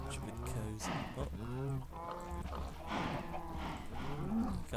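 Several cows moo in Minecraft, long, low, wavering calls overlapping one after another at close range, with a voice speaking briefly alongside.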